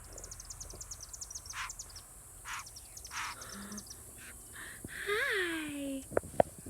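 Small birds land nearby and give short, scattered chirps and tweets over a quiet background, while a person softly greets them.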